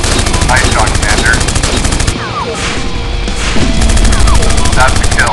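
Rapid gunfire from an aircraft in the iPad combat game AirHound, a loud continuous rattle of shots over steady engine roar, with a brief dip midway before the firing resumes.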